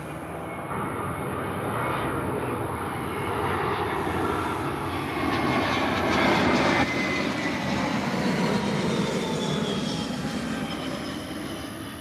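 A JetBlue airliner in NYPD livery passes at Tampa airport, its jet engines a steady, broad roar that swells gradually to a peak midway and then slowly fades, heard fairly close with no talking.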